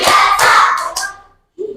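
Children in a classroom icebreaker clap their hands in a quick counted sequence, a few sharp bursts close together, followed by a brief pause and a faint voice.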